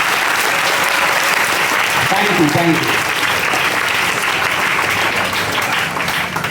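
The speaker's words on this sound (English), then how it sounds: "we thank and honor everyone present here with our beloved clapping" Steady, dense applause from an audience at a school gathering fills the whole stretch at full volume, while someone briefly speaks over the clapping.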